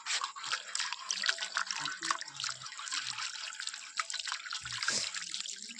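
Water runs from a tap into a sink in a steady, close trickle and splash, with brief drips and small knocks mixed in.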